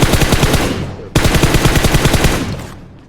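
M4 rifle fire in a video game, heard as two loud, fast, rhythmic automatic bursts close by. A brief break separates them, and the second burst fades away.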